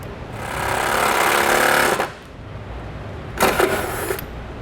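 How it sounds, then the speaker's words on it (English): A power driver spins a small self-tapping screw into solid vehicle body metal during a compressor install, two loud, close bursts of buzzing motor whine, the first about two seconds long, the second briefer after a pause. "Now we're going to take a small self-tapping screw. We'll go right into a solid, good piece of body metal here."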